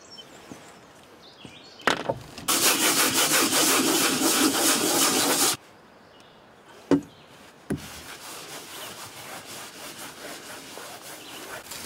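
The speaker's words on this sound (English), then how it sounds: "I am going to sand and wash it with alcohol first, just so it adheres better." Sanding the hull surface of a whitewater kayak to prep it for peel-and-stick patches, a loud steady abrasive scrubbing run for about three seconds, then a sharp knock and a fainter, rougher rasping stretch, with no talk.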